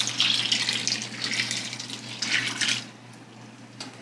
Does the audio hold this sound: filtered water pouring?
yes